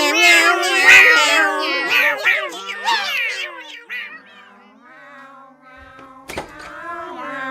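Voices imitate a cat, meowing repeatedly in quick, overlapping succession, loud and close, then trailing off into quieter meows with a brief knock near the end.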